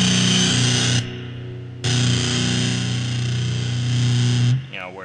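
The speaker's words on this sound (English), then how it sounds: "this is distortion, the distortion knob, all the way maxed out" An electric guitar played through a Dano distortion pedal with the distortion knob turned all the way up gives a loud, buzzy, saturated chord that rings, cuts off briefly, then rings again before stopping.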